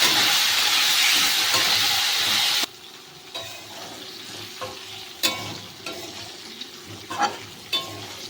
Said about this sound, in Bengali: একই সাথে ভেজে নেবো